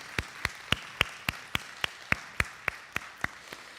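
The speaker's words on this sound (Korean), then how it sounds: "우리 감사의 박수를 한번 뜨겁게 한번 보내면 좋겠습니다" Steady single pair of hands clapping, about fourteen sharp evenly spaced claps, fairly quiet and close, offered as thanks to church volunteers during a Sunday worship service.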